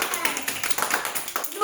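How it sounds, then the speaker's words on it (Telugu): Hand clapping at someone's birthday party, a quick patter of several people's claps over about two seconds, mixed with background voices. "claps claps claps"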